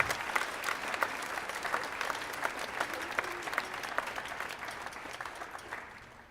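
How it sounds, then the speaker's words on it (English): Audience applause for the YSYO youth orchestra students at a winter school band concert, a sustained round of many hands clapping at moderate distance that holds steady for several seconds and then tapers off. "So how about a nice round of applause for our"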